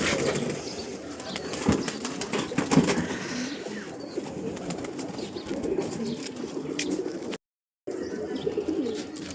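Pigeons coo steadily at close range in a home loft, with occasional bursts of wing flapping among the calls.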